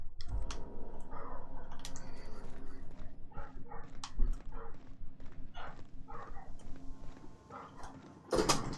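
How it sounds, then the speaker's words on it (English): A dog barks indoors in short, scattered bursts beneath steady computer keyboard typing and video game background sound. A louder bark rises near the end. "Dog barking."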